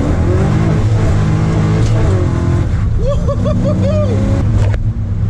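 A 1981 Camaro Z28 with a T-56 manual gearbox accelerates hard through the gears on a road, its loud engine roaring close up with rising pitch sweeps between shifts and a brief lift near the end.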